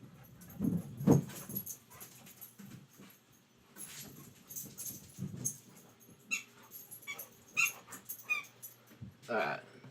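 Pet dogs at home being let out, with short whimpers, pants and jangling tags or keys in a room, mixed with people talking nearby.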